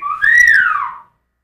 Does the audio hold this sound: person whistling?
yes